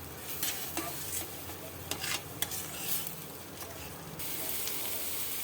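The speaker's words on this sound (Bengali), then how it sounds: "টমেটোটা ভালো করে কষাতে হবে।" Tomatoes with ginger-garlic paste, turmeric and salt fry in a kadai with a continuous sizzle, while a spoon scrapes and stirs in irregular strokes close by.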